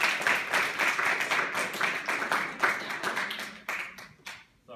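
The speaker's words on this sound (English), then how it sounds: "let's give our guests a round of applause" Audience applause for guests at the end of an MIT admissions presentation, a dense sustained patter of clapping that thins out and fades toward the end.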